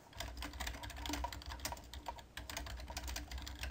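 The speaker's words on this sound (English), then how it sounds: "type in whatever you would want to announce" Someone types on a computer keyboard, a quick irregular run of soft key clicks, close and fairly quiet, with no speech.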